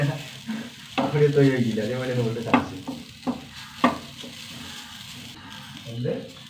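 A spatula scrapes and stirs grated coconut roasting in a hot pan with a soft sizzle while someone talks nearby for part of the time.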